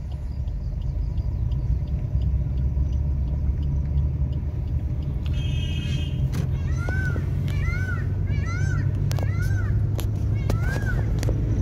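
A car engine drones steadily as it climbs the uphill road toward Nahargarh Fort, a constant low rumble throughout with faint chirps and a voice heard briefly in the background.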